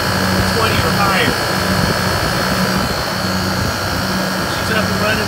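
Refrigeration condensing unit converted to R404A refrigerant running steadily with a loud, constant fan and compressor hum and a faint periodic tone, close up.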